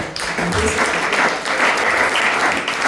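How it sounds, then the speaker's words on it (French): Congregation in a church service breaks into sustained applause, a steady wash of many hands clapping that fills the room for a few seconds, with scattered voices faintly mixed in. "Est-ce qu'on peut acclamer pour la parole de Dieu?"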